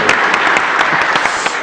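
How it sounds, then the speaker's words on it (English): Applause at a commission meeting for Mr. Baker, recognized for his good work: a steady, dense round of clapping from a roomful of people, loud and sustained throughout with no talk over it. "let us give you a round of applause for that good work"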